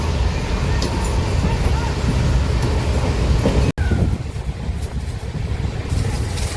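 A passenger train on the Rajkot to Mumbai route rolls along with a loud, steady rumble and faint rhythmic clatter of the carriages, broken by a sudden instant of silence midway, with murmuring voices in the background.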